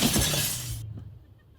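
A television is slammed down and its glass screen shatters in one loud, bright crash that cuts off abruptly, leaving only a faint low tail.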